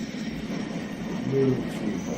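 Heavy train pulls away slowly in a train simulator game, a steady low rumble and rolling drone with brief faint squeals from the wheels, continuous and moderately loud.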